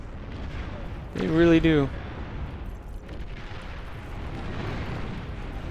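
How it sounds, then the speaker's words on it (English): Arbiter missiles strike and explode in the strategy game Beyond All Reason, a steady rumble of distant blasts and artillery-like booms that continues beneath a short spoken remark. "those Arbiters, those missiles hurt when they hit"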